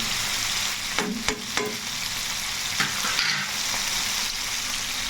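Fish fries in hot oil, a dense close sizzle and spatter with a few quick scrapes and taps of a utensil early on, and no voices.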